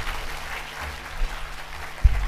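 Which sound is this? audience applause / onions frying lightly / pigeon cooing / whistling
audience applause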